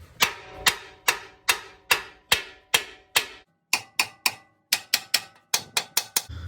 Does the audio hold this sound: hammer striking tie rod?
yes